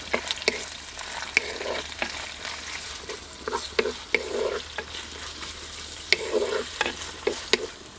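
Onions and garlic frying in oil in a pan for a ridge gourd and prawn curry, a close, steady sizzle with frequent sharp scrapes and clacks of the spoon as they are stirred, without any talking.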